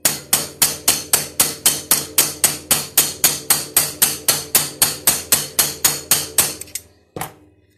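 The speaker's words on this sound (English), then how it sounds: "Grab my hammer here" A hammer strikes stacked metal plates in a fast, steady run of about twenty-four loud ringing blows, then stops; one more lone hit lands after a short pause.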